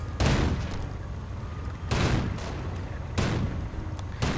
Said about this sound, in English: Anti-aircraft gunfire.